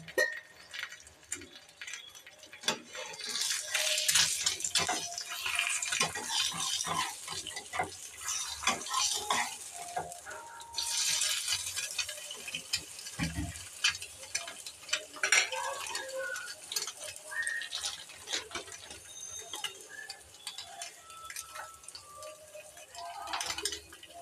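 Egg curry sizzling and frying in a pan with occasional stirring and utensil clinks, a steady crackling hiss rising and falling throughout, close and moderately loud.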